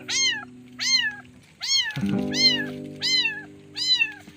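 A kitten mewing repeatedly, six high thin meows at a steady pace, close by over a low steady hum.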